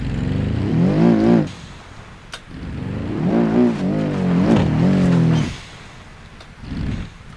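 A car engine revs and whines while drifting in a racing video game, rising and falling in loud surges with brief dips between bursts.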